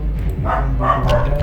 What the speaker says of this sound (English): Sorry about the dog barking actually.